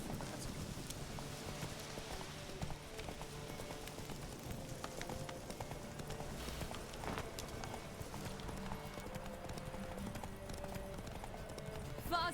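Roach, the horse in The Witcher 3, gallops in quick, steady hoofbeats that run throughout, with faint game ambience and occasional brief voices underneath.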